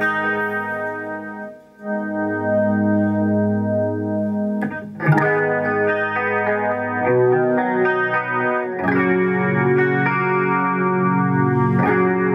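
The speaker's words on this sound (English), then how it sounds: "So this is kind of like the clean sound that I have with the you know, the chorus effect." A clean electric guitar through a Laney TF700 amp with chorus plays sustained, shimmering chords and picked notes, clear and up close with no talking.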